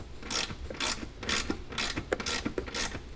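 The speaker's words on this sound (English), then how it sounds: "So let's go ahead and get this bolt removed." A ratchet wrench turns out a 13 mm bolt while a car audio system is installed in a Bronco, producing rapid rhythmic clicking strokes in repeated close bursts over a quiet background.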